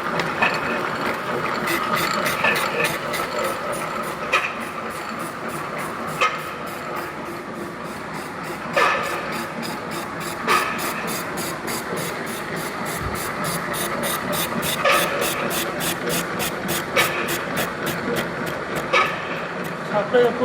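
A milling machine cutting a hexagonal workpiece, giving a rapid, regular clicking chatter over a mechanical whir, with occasional louder knocks, heard up close over its full length.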